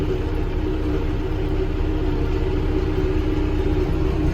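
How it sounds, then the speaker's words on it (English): A mid-sized tractor shredding pasture grass rumbles steadily, its engine loud and close with a constant low drone and no talking over it. "It's not your biggest size tractor that they make, but it does the job for us."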